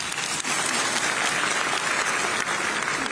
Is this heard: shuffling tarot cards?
no